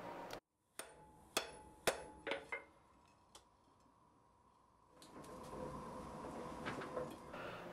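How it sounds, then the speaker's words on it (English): Blacksmith's hammer forging the flat section of a steel bar into tongs, six sharp ringing blows at an uneven rhythm, then a quieter stretch followed by a rising metallic rumble of shop noise. "I'm hammering down the flat section that's going to be used for the curved part of the bit"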